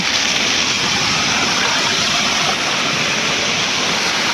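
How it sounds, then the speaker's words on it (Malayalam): Water gushes at high pressure from holes in a rain-flooded road, a loud, constant rushing roar close by, with no voices over it. "ഹൈ പ്രഷറിലാണ് വെള്ളം ചാടുന്നത്"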